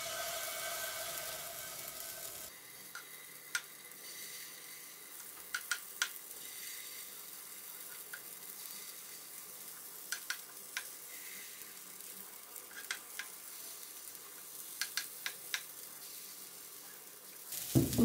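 Quiet, steady sizzling of liver fritter batter frying over medium heat in a lightly oiled pan, broken by scattered small ticks and pops, with a brief louder stir at the start.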